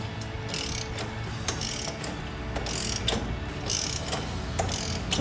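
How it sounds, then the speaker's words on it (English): A 22mm socket and wrench tighten the bolt on a front shock mount extension bracket of a RAM 2500 truck, producing repeated rapid ratcheting clicks in close, rhythmic bursts with no talk. "we take our 22mm socket and a 22mm wrench and we tighten that down"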